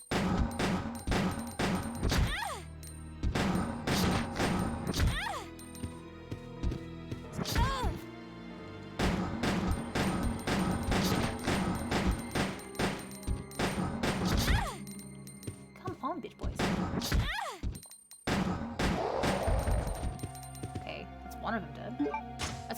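Gunfire from a weapon in a video game comes in repeated bursts of sharp shots and crashing impacts, with a voice talking over much of the action.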